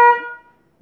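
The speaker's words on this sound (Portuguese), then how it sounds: "Temos buzina." A single short honk from the horn of a 2011 Toyota Sienna with an intermittent horn fault, loud and close, cutting off quickly and fading within half a second.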